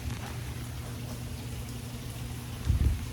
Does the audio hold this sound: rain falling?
yes